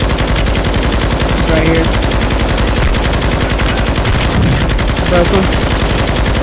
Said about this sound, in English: Somebody shooting from our left.